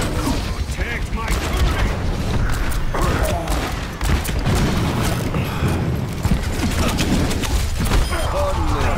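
Gunfire and a flashbang in the shooter game Overwatch, a dense, loud burst of rapid shots, mechanical clatter and booms running continuously with game effects layered over each other.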